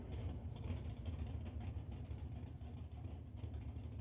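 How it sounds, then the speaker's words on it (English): Drag racing car at an eighth-mile strip idling roughly, a low uneven engine rumble that seems to struggle to keep running, steady and moderately distant throughout with no speech. "the car sounds like it's struggling to keep fire in it."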